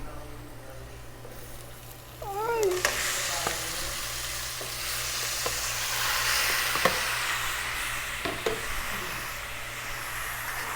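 Chicken pieces frying in a pan for chicken adobo, a continuous sizzle with stirring scrapes and a few clinks, a brief squeak near the start over a low steady hum.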